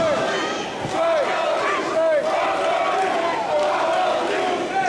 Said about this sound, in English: The crowd's yelling for it.